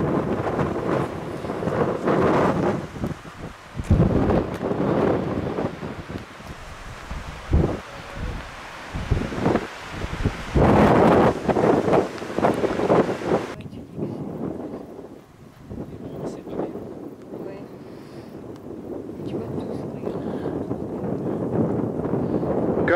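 Gusty wind sweeping across a high mountain viewpoint above gorges in Gran Canaria, a steady roar with louder buffeting bursts and rustling, hitting the microphone through most of the stretch, then easing to a calmer hiss.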